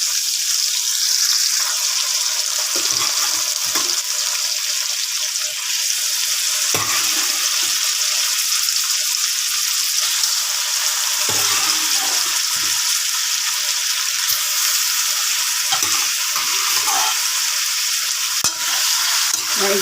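A blue marlin head sautéing in a pan with onion, garlic, tomato and ginger, a loud, dense, continuous sizzle close up with occasional stirring scrapes and no voices.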